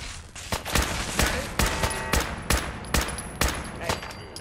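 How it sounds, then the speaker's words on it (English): Gunfire in the PC game Fallout 4 cracks out as a loud, evenly spaced series of about ten shots in rapid succession, close and punchy. "Can you start shooting, Nick? Because looks like I'm doing all the shooting here."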